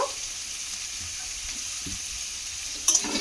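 Potatoes and carrots being stirred with sattu in a hot pan: a steady, close frying sizzle with soft scraping, and a brief clatter near the end.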